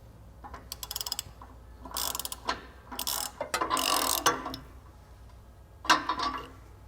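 A ratchet wrench clicks in quick bursts while running an adjuster bolt up onto a Hummer H2 torsion key, close and fairly quiet, several separate cranking spells with short pauses between.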